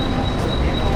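A passenger train rumbles close by with a steady broadband roar and a faint high metallic wheel whine, continuous through the full second, heard at a station on a family trip toward Kelve Beach.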